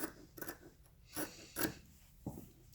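Scissors cut a straight line through a fabric seam sample, giving about four quiet close snips spaced irregularly, each a short crisp slicing burst, with no talking.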